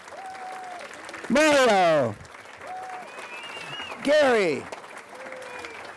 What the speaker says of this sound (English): Let's give once again another round of applause for our 4 inductees